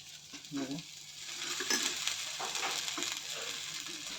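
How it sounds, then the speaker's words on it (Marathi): A mixed-flour dhirde pancake fries in oil on a pan, giving a soft, steady sizzle with occasional scraping and stirring noises as it is turned, fairly quiet and close. "एकदा आपण इकून पण पलटून त्याला भाजू थोडंसं तेल टाकून"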